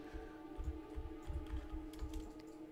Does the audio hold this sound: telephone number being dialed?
no